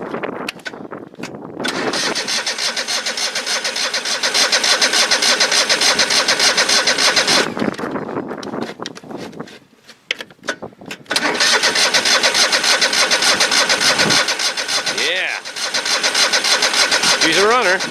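An old engine in a long-stored machine cranks and catches, then runs loud and rough, dropping out briefly and restarting. A person talks over it in a couple of places.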